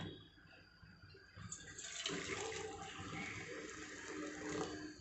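Water pours steadily into a cooking pot for mutton, a faint splashing gush that starts after a quiet moment and continues to the end.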